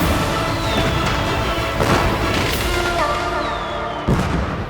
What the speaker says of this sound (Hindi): अरे बंद करो आतिशबाजी।